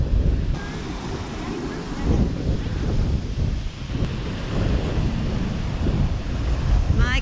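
Ocean surf rolls onto a long open beach with steady wind buffeting the microphone, a continuous wash of breaking waves at close range with no talking.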